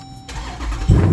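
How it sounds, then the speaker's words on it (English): A Dodge Durango SRT with aftermarket exhaust work fires up close by, a deep rumble rising into a louder, throaty burst near the end. "Let's hear the vehicle though. Let's see what it sounds like as it's dropped in."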